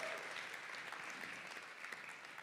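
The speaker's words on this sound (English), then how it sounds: "Y'all can clap for that." Applause from an audience at an evening storytelling show, a steady wash of many hands clapping, fairly distant and sustained without a break.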